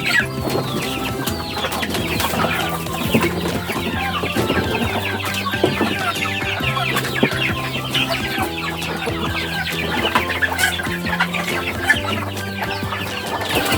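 A flock of chickens at afternoon feeding on a farm, clucking and chattering densely and continuously, fairly close and loud, with overlapping calls throughout.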